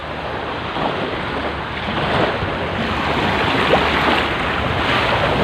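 A strong northeast monsoon wind blowing at the seaside on a fishing shore: a continuous loud roar with surf washing underneath, gusting slightly stronger partway through, and no voices.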